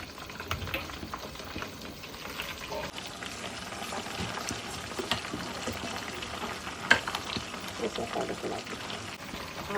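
Homemade herbal hair-oil mixture dry-roasting in oil in a large pot over a low flame gives a steady, dense sizzle and bubbling throughout, with occasional stirring clatter.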